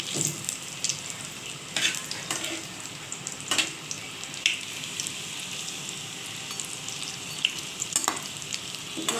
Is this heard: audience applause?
no